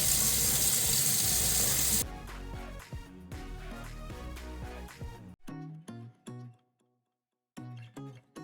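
A tap gushes loudly for about two seconds, then water splashes and drips in short, scattered bursts while something is rinsed, falling to near silence with a few last drips.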